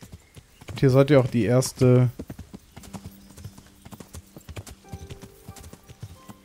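Horse hooves clop in a steady rhythm while riding in Kingdom Come: Deliverance, moderately close, after a short burst of someone talking at the start.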